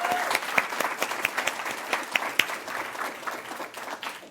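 Audience applause at a digital inclusion awards ceremony in Nova Scotia, a steady patter of many hands clapping with a few sharper claps standing out, gradually thinning toward the end with little talk.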